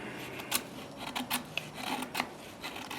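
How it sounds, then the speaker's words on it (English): An ESEE 3 knife carving fine shavings from wood makes a series of short, dry rasping scrapes, close up, each stroke brief and separated by pauses. "on the carving, I mean, it gets some really fine shavings"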